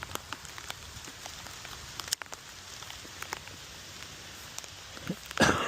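Rain falls outdoors among leafy plants as a soft, steady patter with scattered louder drops, ending in a brief close rustle or handling noise.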